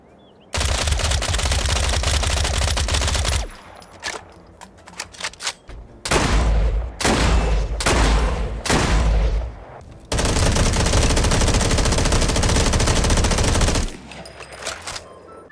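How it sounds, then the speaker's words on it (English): Loud, realistic gunfire from the Resound Project Guns mod for Fallout 4: a long sustained automatic burst, then several short bursts with gaps, then another long continuous volley, all close and punchy with no talk. "The mod replaces the vanilla gunfire sound with more realistic, punchy, and dynamic audio that adds a lot of immersion."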